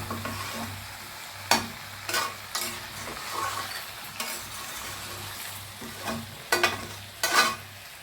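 Mutton fries in a pan with a continuous low sizzle, broken by repeated scraping strokes of a stirring utensil and a few sharper clanks against the pan, close and without speech.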